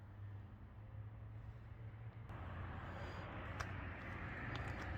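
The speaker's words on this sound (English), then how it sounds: "there is still some traffic and it's noisy" Road traffic passes at a distance as a faint, steady low rumble that swells slightly partway through, with no one talking.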